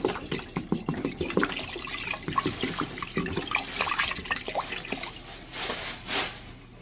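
Spring water poured into a pot of uncooked rice, a splashing, gurgling stream with irregular drips and surges that run continuously and close by, with no voices.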